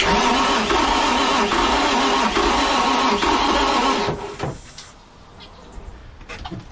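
A loud, steady mechanical whirring of an engine with no compression being cranked by the starter for about four seconds, then it stops and the space goes quiet with faint clatter.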